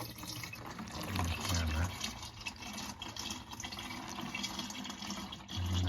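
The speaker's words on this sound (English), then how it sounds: "when I'm pouring the used oil into here, I just slowly squeeze the sides" Used engine oil from a 2015 Yukon Denali XL 6.2L pours steadily into a plastic container as its sides are squeezed, a continuous liquid trickle and splash heard under people talking nearby.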